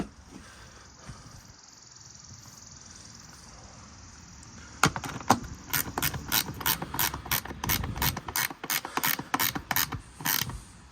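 Ratchet wrench tightening a half-inch nut onto a bolt while installing an Aquastrong 2/3 HP sand filter pump, a steady train of loud, close clicks in a fast rhythm starting midway after quiet room noise.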